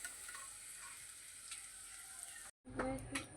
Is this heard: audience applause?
no